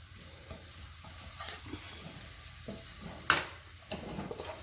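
Onions sautéing in a pan with steady soft sizzling, punctuated by scraping stirs and a few louder clinks of a spatula against the metal.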